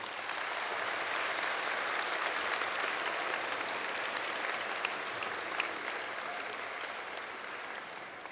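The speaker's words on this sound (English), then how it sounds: "I think you all deserve a round of applause from the students." Graduates at a university graduation ceremony in a large hall give a steady round of applause, even and sustained throughout, heard at moderate distance.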